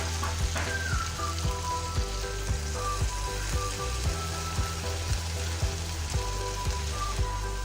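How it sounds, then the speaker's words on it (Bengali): Chickpea cooking water pours into a pan of frying chickpeas for chole, setting off a loud, continuous close sizzle and bubbling hiss with faint clinks over it. "এবার এর মধ্যে দিয়ে দেব ছোলা সেদ্ধ করার যে জলটা ছিল"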